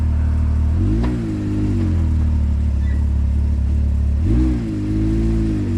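A Can-Am Maverick X3 DS Turbo RR side-by-side's turbo engine revs up loudly and close as the clutch engages, holds a steady drone, then rises again in a second surge near the end, with no talk.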